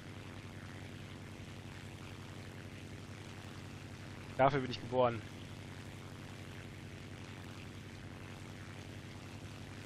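A propeller aircraft engine in the War Thunder flight game drones steadily throughout, with a brief burst of spoken voice partway through over the constant hum.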